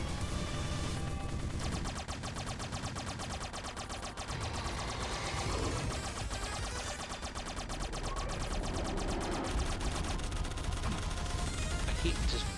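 Pea shooter weapon from The Mummy Demastered firing a rapid, steady stream of small shots, mixed into continuous, dense game music and effects for the whole stretch.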